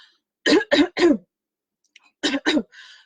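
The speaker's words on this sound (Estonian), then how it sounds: "Ole valmis, köhi hääl puhtaks." A person clears their throat with three quick rough coughs, a pause, then two more hacking coughs, close and loud.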